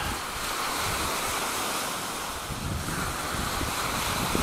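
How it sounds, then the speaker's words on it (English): Wind buffets an 808 keychain camera mounted on a flying Hubsan 502e drone outdoors, making a loud, steady broadband roar that holds through the whole stretch with no one talking. "Boy, that wind is really getting it"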